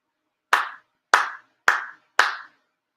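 At a monthly shrine ceremony in Chula Vista, one person gives four sincere ritual hand claps: loud, near, evenly timed, each a distinct crisp strike fading quickly into quiet, with no talking around them.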